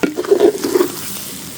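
Water hits a hot cooking pot with a short burst of sizzling and bubbling that fades within a second or two, close and fairly loud, no voices.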